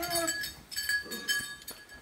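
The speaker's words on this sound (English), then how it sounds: "One goat got out." A goat on a farm bleats in a few short, wavering calls, fairly faint and close, with light clinks and shuffling around it.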